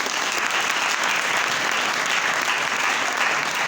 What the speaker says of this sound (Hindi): तो इन बच्चों, इन बेटियों के लिए जोरदार तालियां